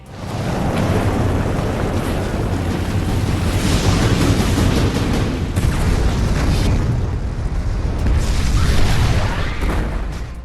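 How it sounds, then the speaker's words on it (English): A violent explosion aboard a burning Persian warship in a naval battle film, a sustained deep roaring boom with rumbling fire and debris that stays loud and dense for about ten seconds, with no voices. "In an instant, the sound of the explosion covered everything around."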